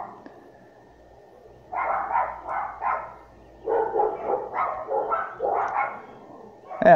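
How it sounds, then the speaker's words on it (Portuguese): Dogs barking indoors at a house, several bursts of two or three clipped barks separated by short quiet gaps, moderately close and fairly loud over a faint background hum. "esses cachorros começaram a latir aqui"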